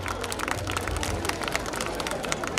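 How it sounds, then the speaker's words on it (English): After a school annual day dance performance, an audience claps steadily in a dense, continuous patter of applause with some crowd murmur underneath. "A big round of applause for this beautiful performance."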